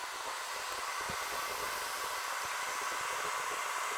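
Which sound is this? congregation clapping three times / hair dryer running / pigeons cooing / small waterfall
hair dryer running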